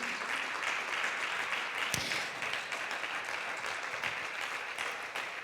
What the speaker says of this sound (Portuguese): Você pode aplaudir a Jesus por esta mesa?